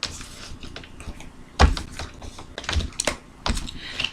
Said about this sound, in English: I'm just laying out the cards here.